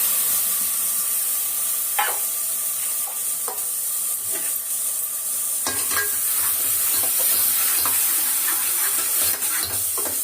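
Ingredients sautéing in a pan for a quick home dish, a constant close sizzle with repeated sharp scrapes and taps of a stirring utensil against the pan.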